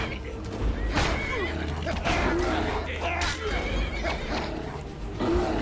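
A horse in the video game Skyrim neighs amid a busy fight soundscape with thuds, creaks and clattering, while voices talk over the action throughout.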